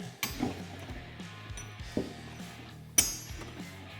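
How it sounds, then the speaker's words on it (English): A clutch puller is tightened on the primary clutch of a Polaris RZR 800, giving a series of close metallic ratchet clicks and clanks at an uneven pace, with a sharper knock near the end. "you just wanna tighten it up until it starts to push the clutch off"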